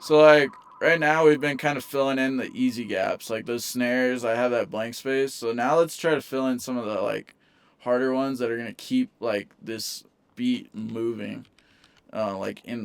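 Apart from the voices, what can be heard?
No distinct noise like a dog, phone or traffic.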